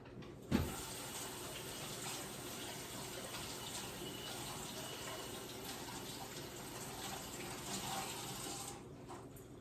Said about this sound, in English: Washing the hands.